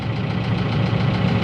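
A tractor engine idles nearby with a steady, low, rumbling drone that holds even throughout, with no voices.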